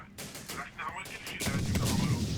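Gunfire in the Syrian Warfare strategy game, dense overlapping bursts of shots and heavier booms in rapid succession, loud and continuous with battle noise building toward the end.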